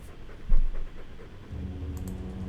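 A Mabari war dog in the video game Dragon Age II pants audibly. Quick breathy panting sounds are heard up close, with a louder huff near the start and a low steady hum underneath.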